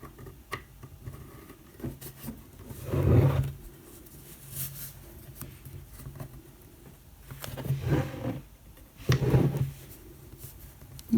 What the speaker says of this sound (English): the nature of this loom, it does mean that you can hear it moving across the table a little bit